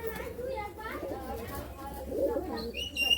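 Pakistani Rampuri pigeons held for sale, soft cooing heard close by beneath steady talking, with faint chirps toward the end.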